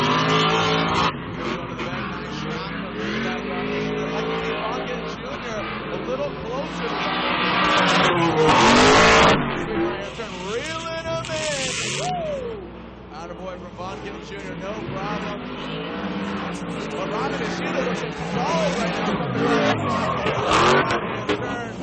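Formula Drift cars drift at the Wall, New Jersey track, engines roaring and tires squealing in long sustained bursts, loud and continuous under excited commentary.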